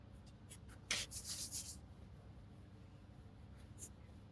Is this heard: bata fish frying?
no